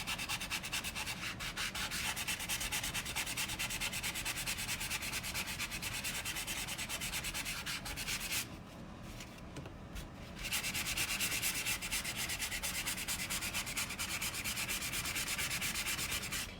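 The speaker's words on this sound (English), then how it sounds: "You can rub it as much or as little as you want." Steady, close scratchy rubbing of an embossing tool over paper, continuous strokes that dip briefly midway before resuming at full strength, with no talking.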